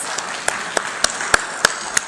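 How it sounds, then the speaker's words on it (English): Sparse applause at an international mediation conference as a justice is welcomed to the dais, a faint background patter punctuated by about seven distinct, evenly spaced loud claps close by. "Can you have a big round of applause"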